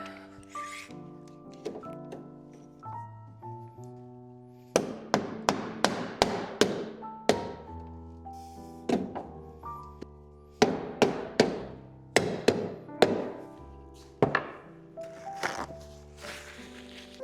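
A nail is hammered into a wooden mid-century modern desk, sharp tapping strikes in quick clusters, ringing against a sustained musical background.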